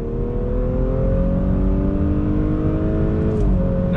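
A 2021 Audi S4 engine pulls hard on throttle, a steady loud growl rising smoothly in pitch as the car accelerates, heard from inside with road and wind noise beneath.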